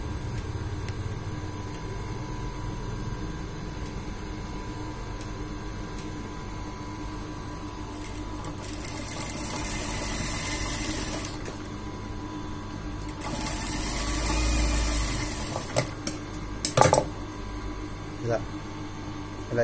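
A sewing machine stitches the front of a boat-neck blouse over a constant electrical hum, with a few whirring stitching bursts and someone talking at times.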